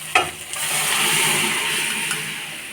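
Peas drop into hot spice masala in a pan for ghugni, a sharp splash and clatter followed by a loud, rising, steady sizzle, heard close and without talk.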